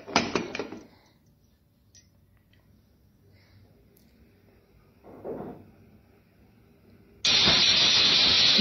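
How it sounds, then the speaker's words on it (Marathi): After a mostly quiet stretch with a few faint kitchen clatters, a pressure cooker full of misal bursts into a loud, sustained steam whistle that hisses on close by until the end. "एक शिट्टी केली आपण"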